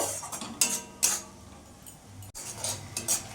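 Spice paste of ground spices and green chili paste sautéing in a pan for a katla fish and cauliflower curry, with several sharp metal spoon scrapes and clinks against the pan over a faint sizzle, close by.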